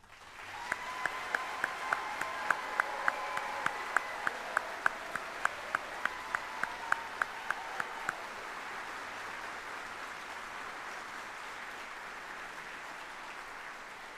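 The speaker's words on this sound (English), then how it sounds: "please join me in a round of applause for our 51 great soldiers" At a US Army general officer retirement ceremony, an audience applauds 51 retiring soldiers with sustained clapping that swells at the start, holds steady, then thins and fades out, alongside a run of sharp regular ticks.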